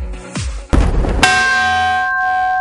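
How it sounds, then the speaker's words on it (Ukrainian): A ship's bell (rynda) aboard the landing ship Konstantin Olshansky is struck once with a sharp clang, its bright metallic ring sustaining and slowly fading, after some lower knocking and rustling. "А на флоті цей дзвін називається ринда"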